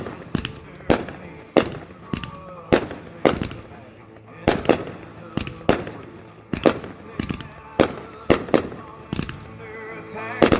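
Backyard fireworks set off with an Ignite firing system burst in a rapid series of loud, sharp bangs, some in quick pairs, with short gaps between volleys.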